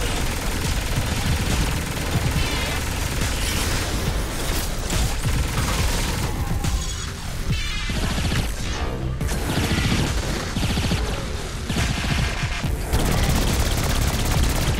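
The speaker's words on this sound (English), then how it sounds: "Oh, they're about to explode." Explosions in the action game Saints Row IV, a loud, unbroken stretch of booming blasts, crashes and rattling gunfire, dense and close throughout with no talking.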